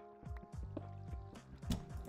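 Trickling cave water in Minecraft flows steadily behind layered musical game tones and several short sharp taps from mining, moderately quiet and without any talking.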